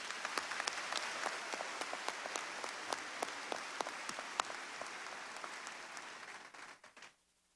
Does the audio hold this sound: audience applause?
yes